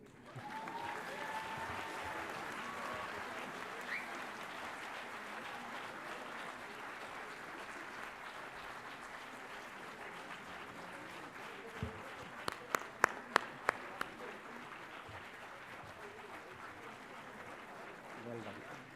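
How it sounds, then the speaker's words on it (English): Audience applause at the NIMHANS 26th convocation, a broad sustained wash of clapping from a large crowd that gradually thins, with a few sharp loud claps near the end. "This is where you must clap loudly."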